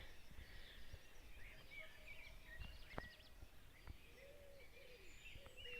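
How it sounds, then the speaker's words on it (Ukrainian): Quiet outdoor ambience at sunrise, just after six in the morning, with scattered bird chirps and short calls from several birds, some fairly distant, in an otherwise still setting. "І пташки так співають."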